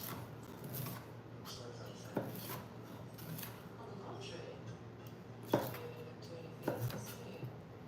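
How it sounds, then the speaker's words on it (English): A knife chops broccoli stalks for a veggie stir-fry, giving soft, irregular thuds and scraping strokes on a board with a few sharper knocks, under faint background talk. "the chopping is just going and going"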